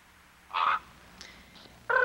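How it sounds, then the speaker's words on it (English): A crow gives two loud, harsh caws, one short and one cut off at the end, with a faint brief call between them, heard close and outdoors with no voices. "In general, if you're just outside listening to birds, crows just call."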